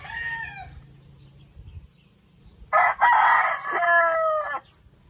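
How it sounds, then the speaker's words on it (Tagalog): A very large rooster gives a loud, close crow lasting over a second, after a quieter call and some low background rumble. "Napakalaking manok"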